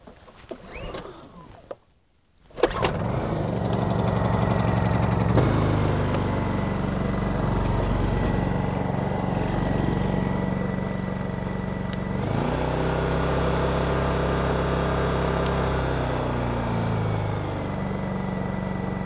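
After a short pull with the choke on and a brief pause, a small Honda portable generator engine starts and settles into a steady, moderately loud hum with slight changes in pitch.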